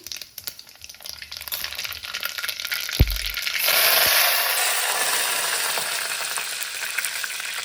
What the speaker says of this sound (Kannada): ಜೀರಿಗೆ ಮತ್ತು ಸಾಸಿವೆ ಹಾಕಿ